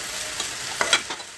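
Curry leaves and masala fry in a pan for a fish curry, with a soft sizzle and a few quick stirring scrapes over about a second and a half.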